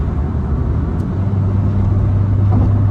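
Renault Clio 4 1.5 dCi diesel hatchback with EDC automatic gearbox climbing a motorway incline at about 110 km/h, a steady low engine drone and road rumble heard from inside the cabin, continuous and fairly loud, with no talking.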